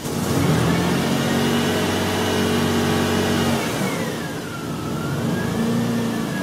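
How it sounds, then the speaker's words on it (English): A 2000 Lexus RX 300 engine runs steadily at a held, slightly raised idle, a continuous mid-pitched drone with a faint whine that dips and shifts in pitch partway through, heard alone without talk. "start the car. I'm going to need you to hold your foot on the gas pedal a little bit to keep it running"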